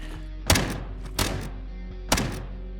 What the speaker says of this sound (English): grenade launcher or the rocket launcher.